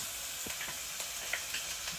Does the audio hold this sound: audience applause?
no